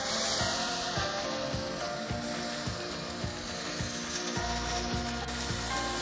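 Chicharrón prensado, browned halfway, frying and sizzling in its own rendered fat in a pan. A steady, close crackling hiss continues throughout with no talk.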